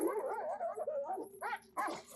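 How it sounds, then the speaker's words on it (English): A dog whimpers in soft, wavering whines, faint and somewhat distant, with a couple of short sharper yelps near the end. "Something's whimpering."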